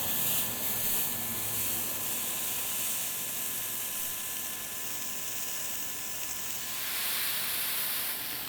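Beef searing in a hot pan for Beef Wellington, a steady close sizzling hiss with faint crackle throughout, swelling slightly near the end, no talk.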